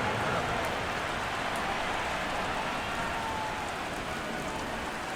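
Rainfall in an American football video game, a dense, steady hiss of rain on the field that holds at a constant loud level throughout with no voices.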